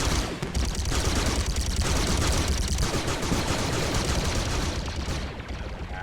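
Dense, continuous automatic gunfire in a Squad Galactic Contention firefight against tanky AI, many weapons firing at once in loud overlapping bursts and cracks throughout.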